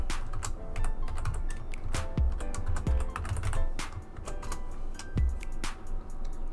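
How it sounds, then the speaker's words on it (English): Password being typed on a computer keyboard in a software settings window, a steady run of close, crisp key clicks with uneven rhythm, continuous for several seconds with no talking. "type in your password"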